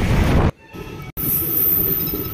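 Steady rumble and rushing wind inside a moving train, loud and close, briefly cut off by a sudden drop in the middle before the roar returns with a bright high hiss.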